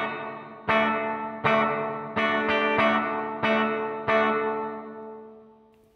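Electric guitar through a spring reverb effect: six or so strummed chords struck at a steady pace, each ringing out loud and decaying into a shimmering reverb tail that fades away at the end.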